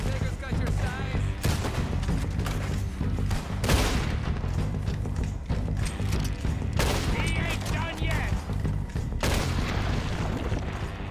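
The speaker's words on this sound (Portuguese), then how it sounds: "Nossa, que tiro, meus amigos." Bursts of rapid gunfire crackle through the Red Dead Redemption 2 game soundscape, with sharp volleys, booms and mechanical clatter, and a voice speaking Portuguese at times.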